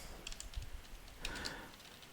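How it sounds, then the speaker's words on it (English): Typing on a computer keyboard while entering a maintenance announcement, heard as a few faint, scattered clicks and taps at close range over low room hum, with no talk. "We can type an announcement such as email"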